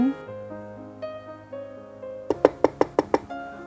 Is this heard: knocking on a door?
yes